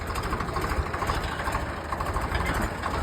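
A heavy diesel engine of a 2004-model Swaraj tractor idles steadily nearby, a low throbbing chug that holds even throughout with no speech.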